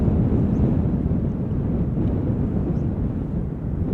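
Boeing 747 jet taking off at Schiphol Airport, a steady, loud, broad low roar with some wind buffeting, continuous throughout with no voices.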